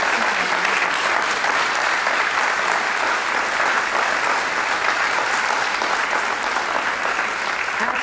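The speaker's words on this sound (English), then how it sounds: "Would you all join me in applauding the members of the Lawrence High School chapter of the National" An audience at a Lawrence High School National Honor Society induction ceremony claps loudly and steadily for the chapter members and inductees, a dense, unbroken wall of applause filling the room.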